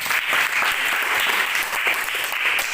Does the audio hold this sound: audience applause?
yes